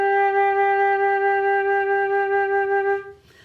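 A wind instrument plays three notes joined smoothly in one continuous breath, a sustained bright tone lasting about three seconds before dropping away, heard alone without talking.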